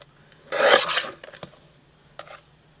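Paper for a scrapbook page is trimmed by hand, giving a short close rasping cut followed by a few fainter scrapes and taps in an otherwise quiet room.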